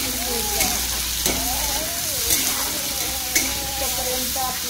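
Onion and tomato sauté in oil for Maggi noodles with a steady, moderate sizzle, while a spoon scrapes and stirs the pan at intervals. Faint tonal background sounds run underneath, and a low hum is present at the start.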